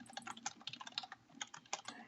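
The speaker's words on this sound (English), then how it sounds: "so while you're typing that" Typing on a computer keyboard during a programming session, a quick irregular run of close key clicks and taps with brief pauses, heard on its own without talk.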